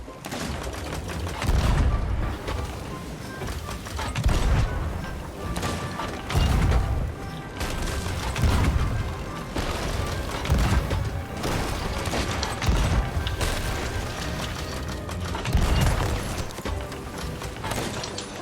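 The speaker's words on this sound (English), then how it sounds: "I began my onslaught of cannon fire, circling their ship while they scrambled to get it back into shape" Ship cannons fire in Sea of Thieves as a sloop circles an enemy ship, booming blasts landing every couple of seconds amid crashing impacts and a dense noisy battle din.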